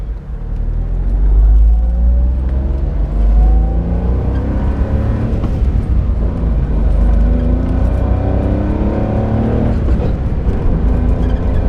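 A 1991 Honda Beat JDM kei car drives along, its small engine humming and revving steadily up and down from inside the cabin, loud and continuous with no talk over it.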